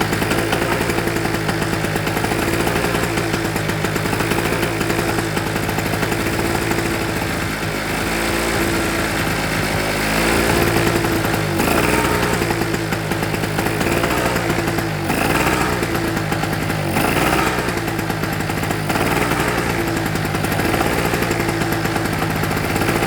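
An old Honda or SIP petrol generator engine runs continuously nearby, a loud rough mechanical drone with steady harmonic hum and occasional surges, alone without talk.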